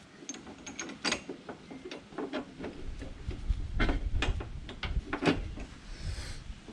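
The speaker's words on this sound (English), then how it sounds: "And then we're going to put our bolts on." Bolts are fitted onto a John Deere 425, 445 or 455 three-point hitch: a series of close metallic clicks, taps and ratcheting clatters in an irregular rhythm, loud and dry with no talk.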